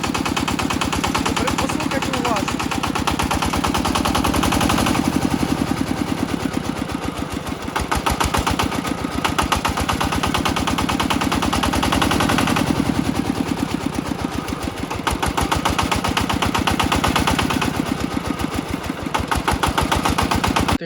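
Walk-behind tractor engine running, a loud, rapid, steady putter of firing strokes with slight swells in level, close by and continuous, with a voice faintly under it.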